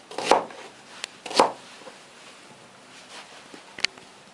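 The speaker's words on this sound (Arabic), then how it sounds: "هقطع برضو البصل والكمثرى يعني بالنص كده بس مش اكتر" A knife chops onion and pear in halves on a board while preparing Korean-style radish kimchi: three crisp, close chops spaced apart, with quieter knocks between them.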